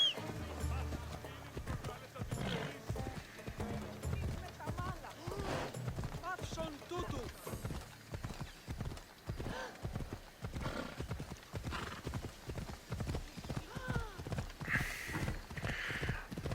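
Horse hooves clip-clopping while riding in Assassin's Creed Odyssey, a steady rhythmic trot with an occasional whinny, continuing beneath a person talking.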